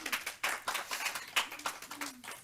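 Sparse, fairly quiet clapping from a small audience at a spiritual gathering, uneven individual claps over a couple of seconds with faint voices underneath.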